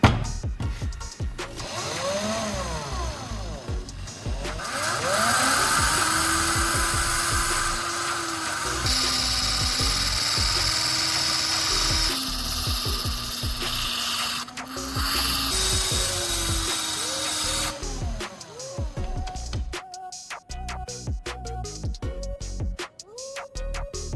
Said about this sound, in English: I need to carefully grind down the tip to make it smaller